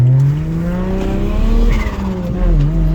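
BMW N54 single-turbo car on new injectors pulling hard, its engine note rising and falling in loud, close sweeps with a brief dip mid-pull before climbing again.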